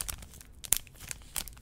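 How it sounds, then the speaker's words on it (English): Thin plastic bag crinkles and tears as a wooden toothpick is poked through its bottom while preparing Popin' Cookin' mini ramen candy, with soft close rustles and a couple of sharper crackles, no talking. "take the plastic bag and the toothpick, poke the toothpick through the bottom"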